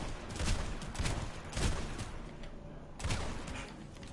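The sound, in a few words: shotgun fire from Planetside 2 video game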